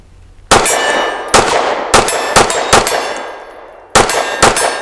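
A Sig P365 Fuse pistol fires seven sharp, loud shots in uneven bursts, each crack ringing with a metallic tail; a longer gap comes before the final three.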